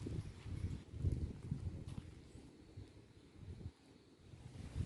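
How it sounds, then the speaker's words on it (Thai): Strong wind gusting across an open temple courtyard, a steady low rumble of buffeting against the microphone that swells and eases over several seconds, with no talking. "ตรงนี้จะลมแรงนิดนึงนะคะ"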